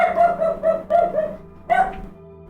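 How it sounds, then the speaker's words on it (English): Dog barking in the video game Chrono Gear, a few close, clear barks in quick succession followed by one more yip after a short pause. "She heard Time Mutt's bark"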